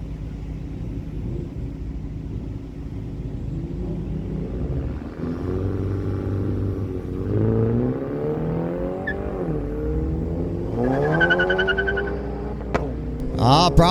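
A 218 BMW and a 214 VW Jetta with a 1.8-liter engine launch at a Miramichi Dragway no-prep drag race, engines rumbling then climbing in repeated revving sweeps, with sharp bursts near the end.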